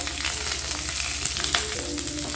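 Garlic and curry leaves fry in hot oil in a pan for a Tamil egg roast, giving a dense, continuous close sizzle with light crackles and stirring clatter.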